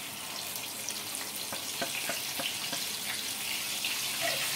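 Chicken leg pieces fry in oil with a bright, continuous hiss and crackle, close to the pan. Scattered sharp spits and pops run through it at an even, busy pace.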